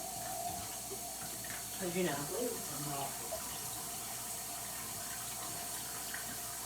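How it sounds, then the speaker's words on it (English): Tap water runs steadily into a can with a soft, even hiss, while a voice talks over it near the middle of the pour. "we're gonna add some water to this can"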